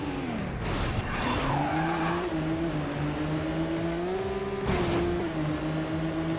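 A fast car in the Midnight Club 2 racing game tearing along at over 200 mph, its engine droning steadily loud and close throughout, with tire skids and squeals cutting in and a brief swell of rushing noise near the end.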